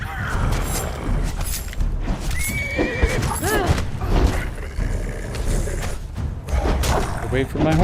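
Horse neighing and whinnying in the video game Conan Exiles, with repeated rising whinnies over clip-clopping hooves and thuds amid busy game sounds, fairly loud and close.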